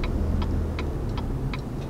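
A small diesel truck engine idles smoothly with a steady low rumble and faint rhythmic ticking clatter, close and moderately quiet, with no talking.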